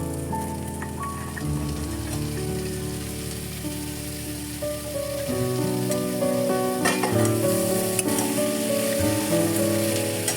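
Capsicum, potato and peas frying with mutton keema in a pan, giving a steady close sizzle with light stirring under a bed of background music, with no talking.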